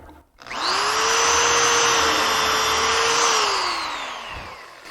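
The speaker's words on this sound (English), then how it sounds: "All I'm going to do is line up one edge and drill the hole." A power drill bores a hole through wood guided by a face frame joinery jig, one steady loud whine spinning up sharply and running about three seconds before slowing down and fading, with no talk.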